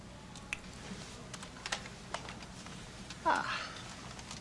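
Keys tapped on a computer keyboard in the Star Trek IV film, scattered light clicks in an irregular rhythm, fairly faint and close, ending in a louder burst of clatter.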